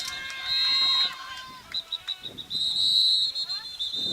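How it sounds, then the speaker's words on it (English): Referee whistles shrill repeatedly from a nearby lacrosse field at a European lacrosse championship match, long blasts and short chirps at moderate distance, with faint crowd and field noise underneath. "I keep hearing whistles"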